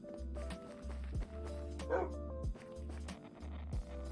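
A dog in the video game Minecraft gives a single brief bark in the middle, fairly faint under pulsing low game music and background ambience.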